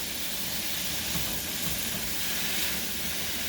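A vegetable stir fry cooks in a pan with a dense, even sizzle and hiss that runs steadily and fairly loud throughout, without speech.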